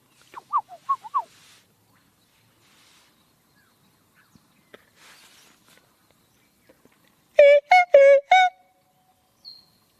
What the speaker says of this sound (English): The birds sound chill.